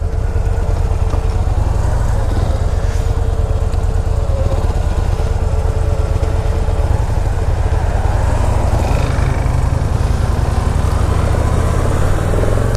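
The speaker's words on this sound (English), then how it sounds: "while we have a lot of fun on this motorcycle" A Victory motorcycle engine rumbles loudly and continuously while riding, with a steady low drone and slight changes in pitch as it moves.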